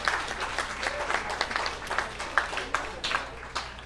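Audience applause after a volunteer's science talk on light and the immune system: dense, steady clapping from a room of people at moderate level, a few sharper claps standing out, with faint talk mixed underneath.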